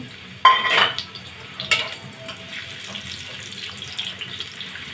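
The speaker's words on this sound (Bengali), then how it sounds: "দিয়ে দিলাম পেঁয়াজ তেলটা গরম হয়ে গেছে" Onions dropped into hot oil in a pan while cooking a vegetable and beef dish give a sudden loud sizzle and crackle, then a steady frying hiss with occasional stirring clatter.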